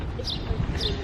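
A bird at the Bronx Zoo in New York gives a couple of short, high chirps over a low background rumble.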